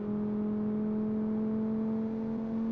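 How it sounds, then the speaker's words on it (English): A video game car engine of around 70 horsepower accelerating toward 110, a steady droning hum with a strong low tone holding for under three seconds, loud and alone with no talk. "Engine sounds nice."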